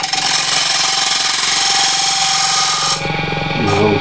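A bowl gouge shapes the inside of a rippled ash bowl on a wood lathe turning at 1300 RPM, giving a loud, continuous rough scraping and cutting noise that eases briefly near the end, with a short voice at the close.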